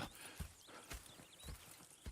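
Horses' hooves in the video game Red Dead Redemption 2 beat out a quiet, irregular clip-clop of a few soft thuds over a faint background hiss, with no talk.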